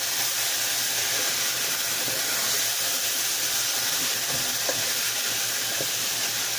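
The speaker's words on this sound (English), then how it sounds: "I'm going to throw in my tomato sauce and do the same thing. Mix it up in my soup." Tomato sauce and bouillon are stirred into a pot of soup, giving a steady, continuous bubbling sizzle with soft clinks of the spoon underneath.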